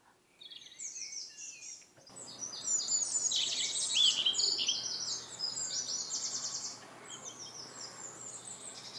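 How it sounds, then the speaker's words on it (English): Busy birdsong with bright, rapid whistles and chirps from several birds, fairly loud over a soft insect-like hiss. "Birds whistle morning,"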